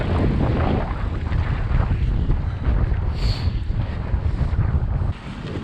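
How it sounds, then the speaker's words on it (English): Strong wind buffets the microphone in a loud, continuous rush while bikepacking through downtown Jasper, gusting unevenly with no voices. "still windy as hell"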